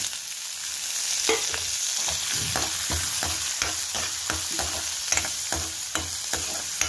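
Onion and green chili with asafoetida fry in oil with a continuous close sizzle, broken by regular scraping strokes of a stirring spoon and no talk.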